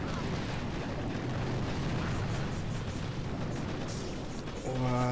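A cannon is blown apart by a sustained, rumbling explosion in the mobile strategy game Boom Beach, a dense roar of blasts and debris that fills the whole stretch and ends with a tonal game cue.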